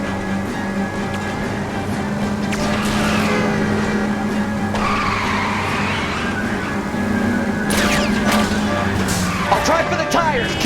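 A car in a police chase in the game LA Noire roars along with a loud engine, squealing tyres skidding through turns, a siren wailing and scattered impacts, with a few voices underneath.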